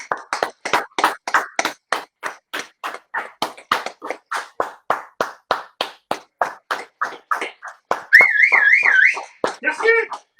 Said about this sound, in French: il faut commencer à applaudir les copains